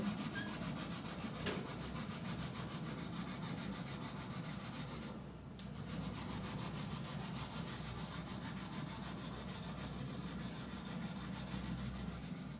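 A reddish crayon coloring in a large area on paper, heard as a quiet, continuous close scratchy rubbing that runs steadily with a brief dip partway through.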